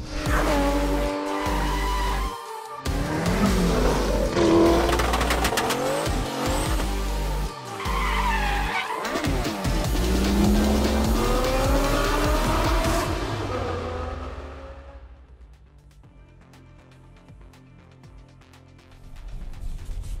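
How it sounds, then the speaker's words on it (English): A Ford Mustang Mach-E electric SUV launching hard from a standstill in a 0 to 60 run without launch control, a loud rising whine with tire squeal building for about fourteen seconds before fading into quieter road noise. "we'll start off with the 0 to 60 run here. We'll just mat it."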